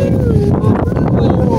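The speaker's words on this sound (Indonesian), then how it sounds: "Angin, guys." Strong wind on Mount Gedogan during a camping trip buffets the microphone in a loud, continuous rush. Faint voices can be heard underneath.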